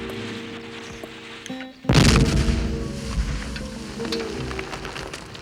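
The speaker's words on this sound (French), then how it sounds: "On a entendu l'explosion, qu'est-ce qui s'est passé?" A sudden loud dynamite explosion booms close by in a cartoon, followed by a rumbling, crackling decay over a quiet tonal background.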